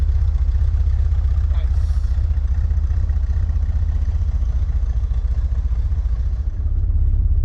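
A 1963 Chevrolet Corvair rolling along on its first road test in months, a steady low engine drone with road rumble and faint rattles, close and continuous.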